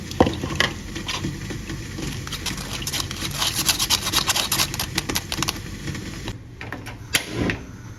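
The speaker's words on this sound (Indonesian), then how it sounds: "dimasak menggunakan api sedang sambil diaduk-aduk seperti ini sampai mendidih dan flanya mengental" Flan mixture being stirred in a pot over medium heat until it thickens, giving a steady scraping, rubbing spoon-against-pot sound with light sizzling, close and continuous with a brief lull near the end.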